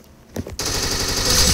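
Automatic gunfire in the Roblox shooter game Arsenal bursts in suddenly after a couple of soft taps, then rattles on loud and continuous to the end, with no voices over it.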